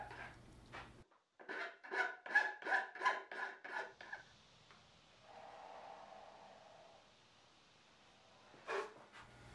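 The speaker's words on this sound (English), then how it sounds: "A rasp will really go fast, almost as fast as a belt grinder." A hand rasp shapes a knife handle in a series of about seven rhythmic rasping strokes close up, followed by quieter scraping and one last stroke after a pause.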